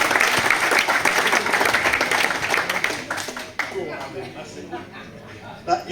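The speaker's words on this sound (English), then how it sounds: "Another round of applause for Jay." Crowd applause at a Shelsley Walsh hillclimb event for a driver named Jay, starting strong and then thinning and fading after a few seconds, with voices talking underneath.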